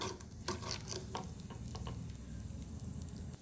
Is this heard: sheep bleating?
no